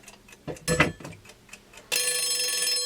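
A kitchen timer, set while an aluminum part heats on the stove, ticks in a few distinct close clicks, then breaks into a loud, sustained bright ringing that carries to the end.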